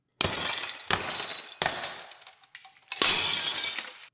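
Glassware smashing, four separate loud crashes of shattering glass, each followed by tinkling debris, with a short quieter pause between the third and fourth impacts.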